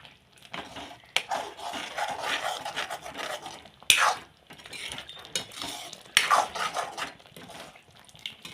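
Spoon scraping and stirring chole masala in a metal cooking pan, with irregular rasping scrapes and occasional sharper clanks against the pan, close and fairly quiet with no talk.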